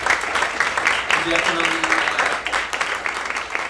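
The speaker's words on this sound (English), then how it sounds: "Please give them a round of applause." An audience claps for the candidates at the close of a city candidate forum in Santa Cruz, with the applause running steadily while a voice speaks over it.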